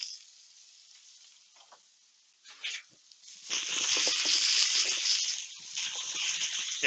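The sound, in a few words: potatoes sizzling in a pan being stirred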